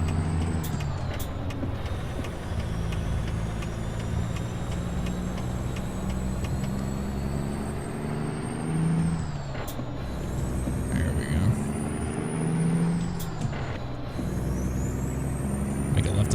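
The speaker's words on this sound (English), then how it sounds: "Those air brakes." Truck air brakes hiss in the American Truck Simulator video game, sharp bursts of released air cutting through a continuous rumbling diesel engine drone, with no talk over it.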